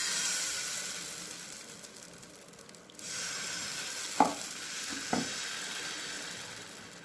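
Tapioca dosa batter hits a hot nonstick griddle with a steady broad sizzle and hiss. Two brief scraping or tapping knocks land partway through, close by, with no talking.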